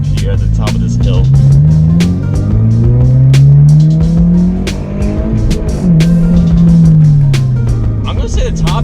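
A car with a freshly flash-tuned ECU pulls hard up a hill, its engine revving loudly with rising and falling pitch through the gears, close and dominant, with some tire noise and no clear talk.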